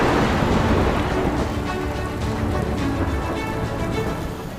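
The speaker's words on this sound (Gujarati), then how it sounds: "ધોધમાર વરસાદથી મેઘલ નદી ગાંડીતૂર થઈ છે" Heavy downpour in Junagadh, Gujarat, a dense, steady roar of rain that stays loud and unbroken from start to end, with no voices.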